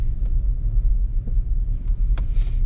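A 2012 Dodge Charger with camshaft-related misfire faults rolls down the road, giving a low, steady cabin rumble with a few faint rattles and clicks.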